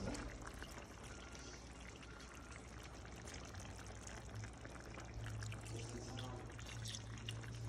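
Whole milk pours into a pot of Bolognese sauce made with tomato paste and red wine, a soft, continuous trickling stream heard quietly and steadily throughout.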